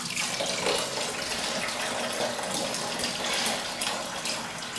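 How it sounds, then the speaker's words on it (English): Biodiesel liquid pours steadily through a bung into a bucket, a continuous splashing, gurgling stream heard close up with no talk. "you can actually see it starting to pour through that bung, and you can see it coming out here"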